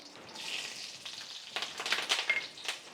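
Slit green chillies fry in oil in a pan, giving quiet, sparse crackles and sizzles that grow busier toward the end, with nobody speaking.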